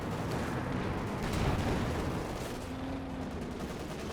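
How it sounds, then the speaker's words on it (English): Anti-tank gun fire in a Company of Heroes 2 World War II battle against a StuG, heard as dense, rumbling battlefield noise with a heavier boom swelling near the middle and steady din throughout. "the AT gun can just keep firing at will"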